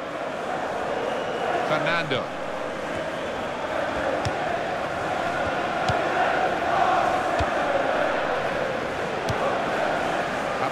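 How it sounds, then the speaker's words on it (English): Simulated stadium crowd at the Santiago Bernabeu in the FIFA 16 football video game, a steady broad roar that settles down throughout, underneath continuous match commentary. "Crowd settling back down here in the Santiago Bernabeu Stadium."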